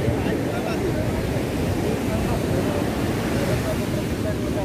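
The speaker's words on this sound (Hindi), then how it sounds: "यहाँ पे लहरें देख रहे हो समुद्र में उठ रही हैं" Sea waves roll in at Calangute Beach, Goa, with the water rough after two days of heavy rain: a constant, loud rushing wash of surf mixed with wind buffeting the microphone, with no distinct breaks between swells.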